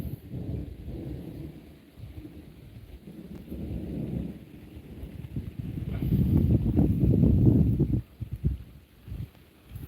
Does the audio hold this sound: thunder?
yes